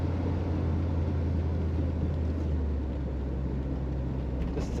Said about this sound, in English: Today we're going for a ride in a beautiful 1957 Chevrolet Bel Air 2-door.